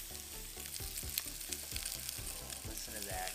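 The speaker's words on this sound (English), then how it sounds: "got some of this meat on the grill, on the charcoal" Meat sears on a charcoal grill, browned ahead of going into borscht broth. A soft, continuous sizzle and crackle stays fairly faint throughout, with no voices.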